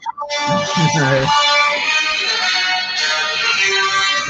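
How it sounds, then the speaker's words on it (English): A phone ringtone rings out loud and steady as a bright, many-toned tune, starting just after some brief voices at the start and carrying on alone for about four seconds. "I don't have that ringtone"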